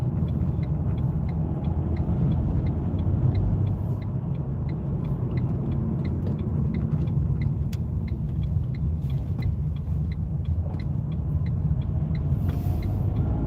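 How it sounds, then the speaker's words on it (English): Steady road traffic rumbles continuously at dusk on a UK road trip between Stalybridge and Wigan, with cars passing close by and a busy low drone throughout, and no talking over it. "Plenty of traffic, more than usual."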